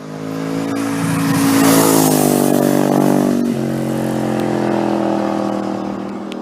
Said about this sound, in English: this beauty houses a 998cc Desmodromic V-twin engine